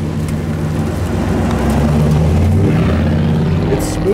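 A 1960 Chevy Bel Air restomod powered by an LT1 engine gives a steady, smooth, fairly quiet running drone while driving, under occasional talk.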